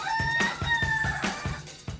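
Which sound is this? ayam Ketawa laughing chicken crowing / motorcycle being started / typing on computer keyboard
ayam Ketawa laughing chicken crowing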